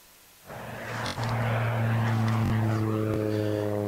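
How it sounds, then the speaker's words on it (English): Propeller airplane flying low overhead near Emporia airport beside an outdoor disc golf course, the engine drone rising quickly and then holding as a loud steady buzz with a clear tonal whine. "And that plane just gets a little bit of a buzz."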